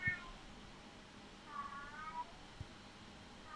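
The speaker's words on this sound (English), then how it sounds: "my cat's trying to get into the room" A house cat meows while trying to get into a room, two drawn-out meows with a quiet pause between them, fairly faint and alone.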